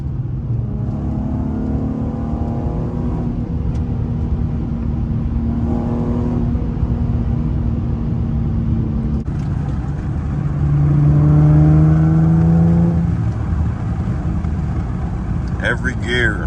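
A tuned Infiniti G37 accelerates hard through the gears, its engine note climbing in rising sweeps with shifts between them, loud and steady inside the cabin, while a voice talks over part of the run.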